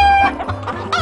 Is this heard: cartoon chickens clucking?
yes